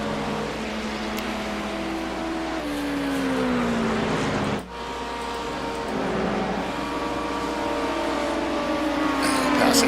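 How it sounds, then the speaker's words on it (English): An LMP2 race car and other cars in a Daytona 24-hour racing video game roar past as engine notes rise and fall, with sweeping pitch glides as cars are overtaken. The sound is continuous and loud, with a brief dip midway. "Passing the LMP2 car like it's standing still."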